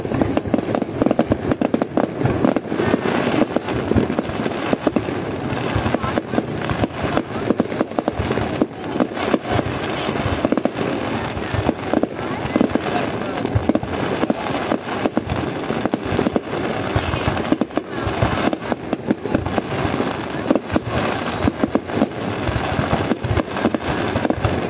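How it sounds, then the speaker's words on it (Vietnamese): Big firecrackers burst nonstop during Tet celebrations, a loud dense barrage of crackling explosions with no let-up throughout. "Đây nó kiểu pháo bự quá."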